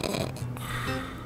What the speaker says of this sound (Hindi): आपको सिर्फ 2 तरह के खर्राटे पता होंगे।